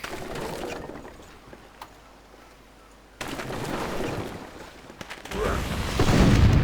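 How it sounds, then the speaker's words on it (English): Cannon bombardment in Civilization 5: heavy booming blasts and rumbling impacts, one rising in after a brief quiet stretch, growing louder toward a big explosive finish. "Let's try bombarding with the cannon as well."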